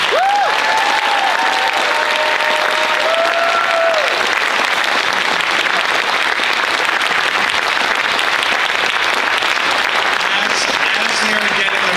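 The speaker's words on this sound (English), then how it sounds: "Let's hear another round of applause." Applause at a recital fills the clip, loud, dense clapping from an audience that goes on without a break, while a voice speaks over it near the start.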